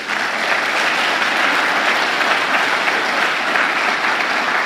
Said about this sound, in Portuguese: Então eu quero que você aplauda Jesus por isso.